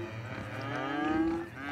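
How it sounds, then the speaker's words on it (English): A single cow moos in the Cities: Skylines city-building game, a close, drawn-out low call rising slightly in pitch before trailing off, heard alone without speech. "They all have so many cow noises"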